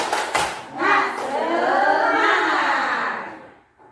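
A group of teachers does a rhythmic spirit clap: a few sharp hand claps open, then massed voices shout together in a rising, sustained chant before cutting off.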